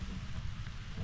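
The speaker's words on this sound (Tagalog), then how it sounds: "Malakas na po mga ka-farmers pang ulan." Heavy typhoon rain pounds down during Typhoon Paolo in a calamansi farm area, a dense, continuous roar with strong low rumble, close and steady throughout the short moment with no voices.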